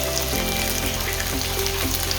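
Whole garlic cloves sizzle steadily in hot oil in a pan, a dense continuous frying crackle, close and fairly loud, with faint clinks and rhythmic thuds of cooking underneath.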